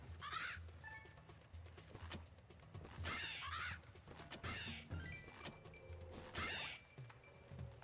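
Crows cawing in the Skyward Sword HD video game, several harsh calls spaced a few seconds apart over a busy game backdrop.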